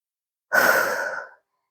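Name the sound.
big exhale during core exercise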